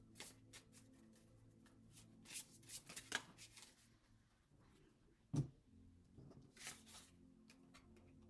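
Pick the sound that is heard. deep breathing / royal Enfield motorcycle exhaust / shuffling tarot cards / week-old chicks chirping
shuffling tarot cards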